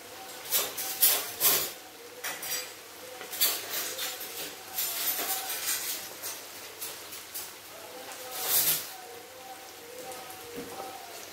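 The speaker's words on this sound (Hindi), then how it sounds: "देखिए माशाल्लाह गोश्त मेरा जो है वो बहुत ही अच्छी तरह भुन रहा है" Beef and spices, black pepper, garam masala, salt and dried coriander among them, sizzle and crackle in a pot as the meat roasts for yakhni pulao, with clinks of utensils and stirring bursts over steady frying.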